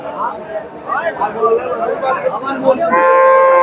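Dairy cows and calves moo loudly and repeatedly amid a busy crowd of voices and chatter at Dakumara cattle market in Bogura, ending with a sustained low bellow over the murmuring market noise.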